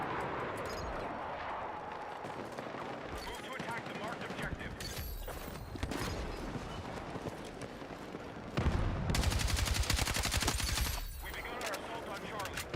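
Rapid automatic gunfire from an RPK machine gun in Battlefield 6, dense bursts swelling loudest near the end amid other battlefield noise, with a voice talking over much of it.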